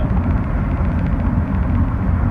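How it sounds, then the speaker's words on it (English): The engine of a 2014 Mitsubishi Lancer ES runs with a steady, low, dense rumble, close and loud, holding an even drone throughout with no talk over it. "let you listen to the engine here."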